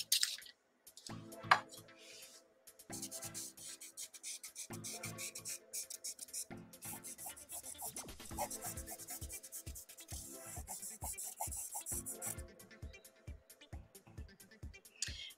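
A charcoal drawing pencil is sharpened, giving soft rubbing, scraping strokes in a steady rhythm of short repeated passes, close and quiet, with no talking.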